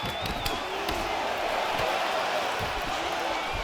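A fired-up arena crowd roars and cheers in the UFC 3 video game during a featherweight bout, a steady wash of noise with thumps of strikes and a commentator talking over it.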